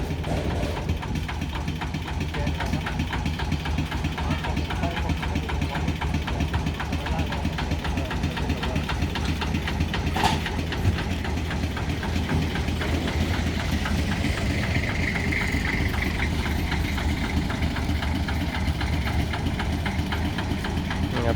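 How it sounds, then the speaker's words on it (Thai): An old 11-horsepower single-cylinder engine on a Thai tuk-tuk used for hauling cassava idles close by, with a steady, fast chugging knock that holds throughout, with no talking. "เป็นเครื่องสิบเอ็ดแรง"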